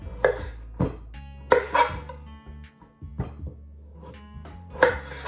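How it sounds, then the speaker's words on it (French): A knife chops zucchini on a cutting board in a kitchen, several sharp close chops coming in irregular clusters with short pauses between them, no talking. "je vais faire pareil avec les courgettes"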